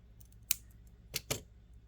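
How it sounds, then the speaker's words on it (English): Scissors snip off excess jewelry wire on a bead necklace, three quick close, faint cuts spaced across a quiet moment. "we'll trim off this extra wire here"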